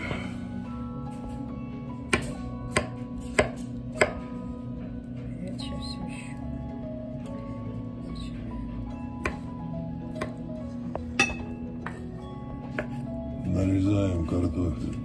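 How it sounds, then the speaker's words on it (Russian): A knife chops carrot, potato and beet for a herring salad, producing scattered sharp knocks on a cutting board at an uneven pace. The chops are fairly quiet and close, and a louder rustling burst comes near the end. "теперь нарезаем. Так, морковь, потом картофель, свекла."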